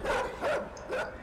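Dog barking in the video game Inside: three loud, close barks spaced evenly across a brief moment, with no talk over them.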